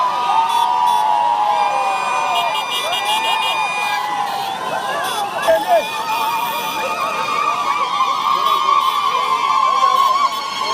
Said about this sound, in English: The crowds cheered